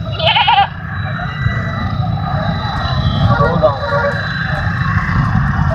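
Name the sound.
goats bleating at a livestock market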